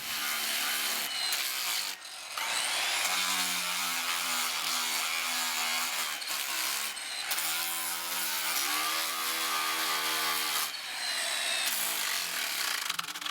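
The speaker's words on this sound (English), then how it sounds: "one way to bump these knots is with a grinder" A grinder working over a peeled log to take down knots, a continuous loud abrasive whine and grind with brief pauses and shifting pitch as the tool is pressed against the wood.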